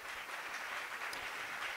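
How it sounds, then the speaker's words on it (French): Audience applause at a university graduation ceremony in Haiti, honoring the godmother: steady, dense clapping throughout, with no voices over it. "je vous demande d'applaudir encore plus fort la marraine."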